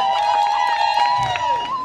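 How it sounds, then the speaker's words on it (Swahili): A crowd at a send-off party in Dar es Salaam, loud high trilling ululation holding steady over scattered clapping and cheering, close and lively. "Makofi na vigeregere."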